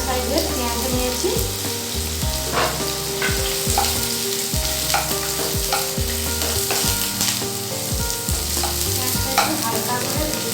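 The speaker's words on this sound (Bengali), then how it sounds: "পেঁয়াজটা একটু হালকা করে ভেজে নেব।" Two medium chopped onions frying in oil for fish cutlets, a loud, close, continuous sizzle with repeated spatula scrapes and knocks against the pan at an irregular, steady pace.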